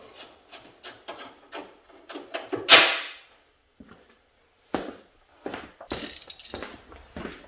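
Ratchet wrench loosening bolts on fender support brackets of a Sierra or Silverado truck, giving rapid close clicking pulses, a louder metallic scrape, then more ratcheting in short bursts.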